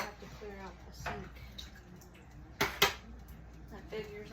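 Dishes clink and clatter while clearing out a kitchen sink, with running water and a couple of sharp knocks of crockery, close by under intermittent talking.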